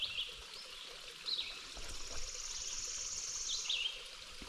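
A trail water source on Georgia's Pinhoti Trail, a soft steady trickle of stream water flowing close by, with faint insect chirps and occasional birdsong around it.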